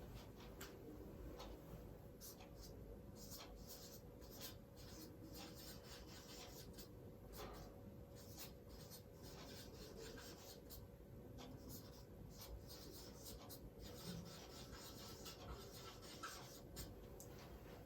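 Marker or chalk writing on a board during a trigonometry lesson, faint rubbing and tapping strokes in short irregular bursts, heard close and alone at low level with no talking.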